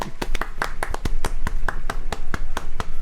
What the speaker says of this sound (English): Look at all the grandparents in the audience clapping out of politeness